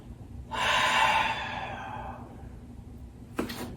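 A long, deep breath drawn through the nose during a yoga session, close and loud, easing off over a couple of seconds, then a short sharp exhale at the end.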